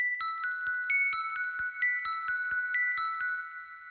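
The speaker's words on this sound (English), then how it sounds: "we're going to be making this sort of airy bell pluck thing" An airy bell pluck synth patch built in the Thorn synthesizer for a trap lead plays a quick, bright melodic sequence of evenly spaced chiming notes with shimmering overtones and short decays, alone and clear.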